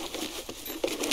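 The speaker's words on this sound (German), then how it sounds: "Ich würde sagen, das ist nur Regen." Rain patters steadily in the video game Escape from Tarkov as a dense, even hiss with faint scattered clicks, with no voices over it.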